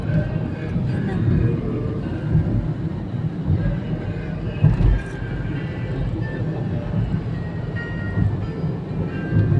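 A train rolls by overhead on an elevated track in Japan near Hakodate, a steady low rumble heard from inside a moving car, with a brief louder knock midway, under in-car navigation announcements and chatter.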